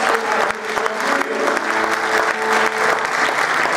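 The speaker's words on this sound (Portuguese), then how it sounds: "Uma salva de palmas." A church congregation claps steadily and loudly for several seconds, a dense, continuous round of applause.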